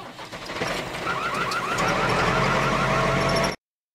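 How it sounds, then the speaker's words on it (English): A tractor engine runs at a steady, loud drone, with a warbling, squealing tone rising over it partway through. The sound cuts off abruptly at the end. "Tractor."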